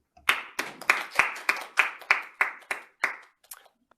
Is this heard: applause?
yes